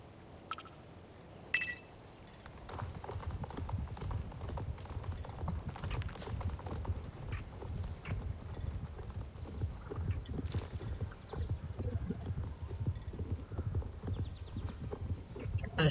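Horse hooves clip-clop steadily in the game Star Stable Online, a continuous trotting rhythm at moderate volume with occasional sharp game effects over a faint background.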